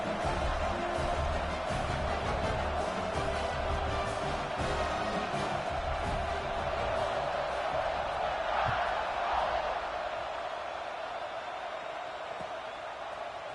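A football stadium crowd roars steadily at kickoff, a dense distant wall of cheering and whoops that swells slightly midway and then eases, with an announcer's voice faintly under it.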